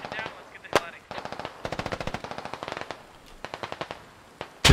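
Rapid automatic gunfire in the video game Squad as soldiers return fire on Russians, several loud bursts of clustered shots with a few single cracks, nearby and dominating the scene.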